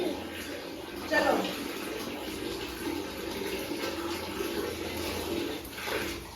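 Tap water runs steadily into a bath for a small child, a continuous close rushing splash with a brief louder surge just after the first second.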